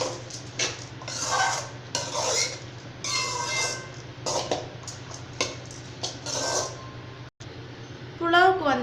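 Peas pulao ingredients are stirred in a metal pot, with repeated scraping and clinking of a spoon under a steady low hum while someone talks over it.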